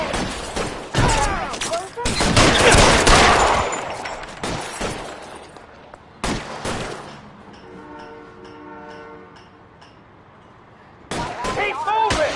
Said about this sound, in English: Guns.